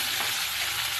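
Whole spices and nigella seeds tempering in hot oil in a pan, a dense, steady sizzle heard up close for a brief moment with no talking.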